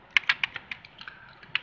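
Clicky taps on a cheap imitation mechanical keyboard with seven-colour LED backlighting, about a dozen crisp keystrokes in an uneven burst, close and clear with no talk.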